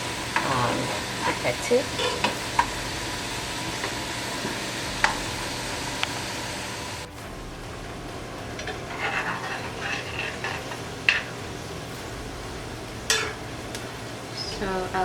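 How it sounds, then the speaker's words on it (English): Onions sizzle steadily in hot oil for homemade onion hair oil while a utensil scrapes and stirs the pan in sporadic knocks; the frying hiss fades briefly midway, and a voice speaks a word. "So I'll just keep stirring my onions."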